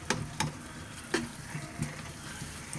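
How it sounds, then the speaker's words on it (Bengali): Semolina halwa fries in a pan with a quiet, crackling sizzle, broken by a few sharp pops and the occasional scrape of stirring. "অনেকক্ষণ ভাজবো এই হালুয়াটাকে, সুজির হালুয়াটা"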